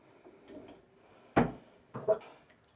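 A drawer in a cluttered home slides and knocks shut, giving one sharp close clunk followed by a softer double bump a moment later. The sounds are near and there is no talking.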